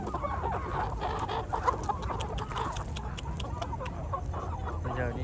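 Chickens cluck steadily and close by at a Vietnamese poultry spot, several birds overlapping in a busy, continuous chatter over low background noise, with no talk.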